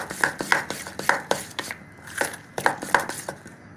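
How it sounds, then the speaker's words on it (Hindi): Eggless chocolate cake batter is whisked in a bowl, giving a quick, rhythmic series of sharp clicking taps against the bowl in short bursts, close and fairly quiet, with no talking. "इसको अच्छी तरह से विस्क करेंगे"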